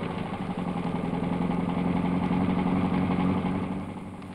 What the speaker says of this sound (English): here we see the district supervisor introducing junior farmers to the tractor